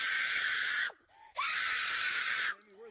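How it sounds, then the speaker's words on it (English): A woman screams at the top of her lungs in two long, strained bursts separated by a short gasping pause, fairly loud and raw, with a brief voice at the end. "She's literally filming herself, screaming at the top of her lungs."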